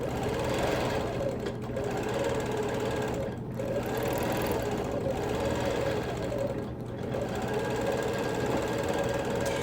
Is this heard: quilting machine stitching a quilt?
yes